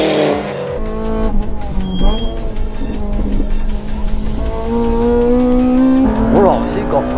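Honda race cars, a Seeker FD2 and a Spoon FN2, cornering hard through S-bends on a mountain touge road, with engines revving, shifting pitch and tires squealing close and loud under a commentator's voice.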